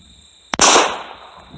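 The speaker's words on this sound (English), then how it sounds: "So let's see what that's like when we take some shots." A rifle fires a single sharp, loud shot during shooting practice, the crack followed by a short fading echo in an otherwise quiet setting.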